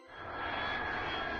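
A loud jet aircraft engine roars steadily, swelling slightly after the start and holding a sustained whine.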